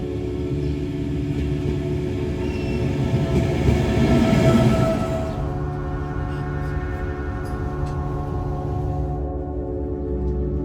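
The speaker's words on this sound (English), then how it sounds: "I'm going to go now because the train will arrive any minute." Train arriving at a station, a loud, steady low rumble of rail wagons that swells to a peak midway, then eases and fades toward the end, with no talking.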